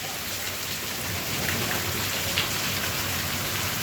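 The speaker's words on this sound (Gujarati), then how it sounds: "વીજળીના કડાકા ભડાકા સાથે વરસાદ ખૂબ જ ધોધમાર પડે છે અને કરા સાથે વરસાદ પડેલ છે" A heavy downpour with hail during a thunderstorm drums steadily and densely on surfaces, a loud unbroken roar with no voices present.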